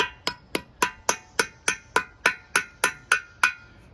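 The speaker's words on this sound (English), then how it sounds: "So put your nuts on there so you can tap it in with a hammer." A hammer taps nuts down onto an aluminum pool fence railing post, striking about thirteen evenly spaced metallic clinks that ring briefly, close and steady, with no talk.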